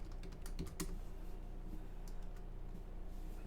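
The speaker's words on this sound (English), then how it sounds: "Why do I keep on typing the wrong password?" Quick bursts of keystrokes on a computer keyboard as a password is typed, clustered near the start with a few scattered taps later, fairly faint over a low background hum.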